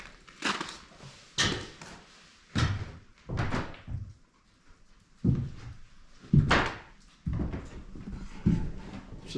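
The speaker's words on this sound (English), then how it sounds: "So let's take a look through the lockable double doors." The lockable wooden double doors of a 10x14 cedar shed are handled, giving a series of close knocks, thunks and creaks spread out across the stretch.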